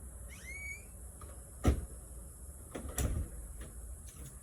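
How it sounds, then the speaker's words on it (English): A door is shut in a house on a hot day, with two distinct knocking thuds a little over a second apart over a quiet background and a brief squeak-like chirp at the start. "Shut that door"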